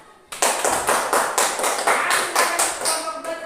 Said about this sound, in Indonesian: silakan kelompok 2 berikan tepuk tangan untuk kelompok 1